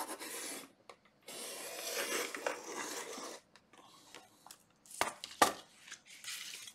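Blade scoring and cutting out a 15 cm circle, close and clear, heard as bursts of scraping, rasping strokes with short pauses between them and a sharp snap near the end, with no talking.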